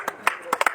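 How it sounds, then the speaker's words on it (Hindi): Sparse hand claps at an election rally in Rajasthan, a few separate sharp claps scattered over under a second, close by and mixed with a voice. "तालियां बजाते रहे साथ साथ में"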